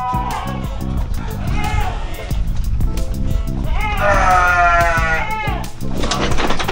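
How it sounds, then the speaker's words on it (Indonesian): Sheep and goats on a farm bleating repeatedly, several loud, close wavering calls overlapping one another, with people talking underneath. "kita ada peternakan, ada domba di sini nih"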